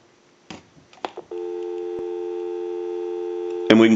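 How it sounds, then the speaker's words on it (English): Steady dial tone on a Northern Electric 302 rotary desk telephone: a few handling clicks, then a continuous even tone held for over two seconds before a louder burst of sound at the end. "So we'll go ahead and give you some dial tone."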